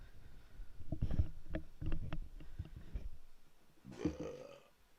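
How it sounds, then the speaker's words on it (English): Several deep, rumbling burps, faint and close, come in quick succession and then a longer one follows after a pause, in a casual indoor podcast setting. "Why do you burp so much?"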